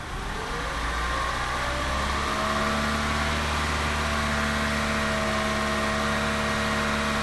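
A vehicle engine runs steadily at 2000 rpm during a vibration and mass-imbalance test, humming loud and close with a constant, even tone for the whole stretch.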